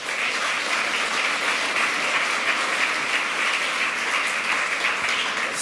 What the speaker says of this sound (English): So let's have a nice talk and welcome them with a warm applause.